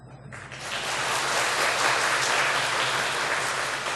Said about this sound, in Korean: 인사하실 때 박수로 환영해 주시길 바랍니다.